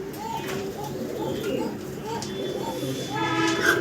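A pair of Lavender Chuachandan pigeons coo in soft, repeated low calls close by, over a steady background hum with faint higher chirps.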